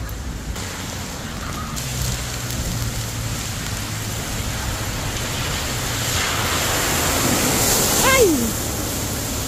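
Steady rain from Storm Byron in Israel patters on an umbrella, a continuous dense hiss with gusts swelling toward the end and a brief voice in the background.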